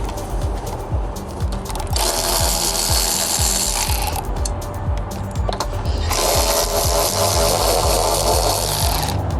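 Loud, fast ratchet clicking from a socket wrench tightening front strut tower bar bolts on a Chevrolet Cobalt, in two long bursts with mechanical clatter between them, no speech.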